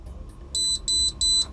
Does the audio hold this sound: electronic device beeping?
yes